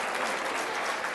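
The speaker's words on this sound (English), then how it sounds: "everybody applaud for this" Brief burst of steady clapping from a seated audience at a community question-and-answer meeting, dense and even for just over a second.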